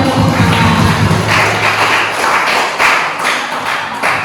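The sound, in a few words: children clapping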